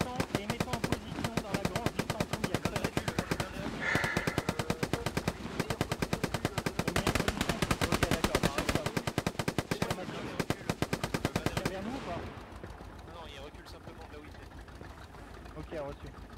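An armored vehicle in the Hell Let Loose video game fires sustained, rapid machine-gun bursts for about twelve seconds under a rumbling engine, then stops, leaving engine noise; voices talk throughout.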